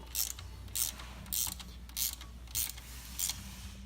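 A 2½ inch bolt is tightened into a motorcycle stand with a ratchet, giving six quiet, evenly spaced bursts of clicking, each under half a second and close by.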